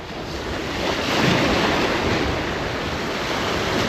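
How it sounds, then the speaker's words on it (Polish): Continuous churning sea surf and rushing, murky water, a broad steady roar mixed with wind buffeting the microphone, with no voices. "Jest fala, mieli się ta woda."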